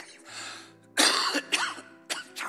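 Coughing and throat clearing in a church during a sermon: a few short, harsh bursts spaced apart, close and fairly loud against a quiet room, with a low hum underneath.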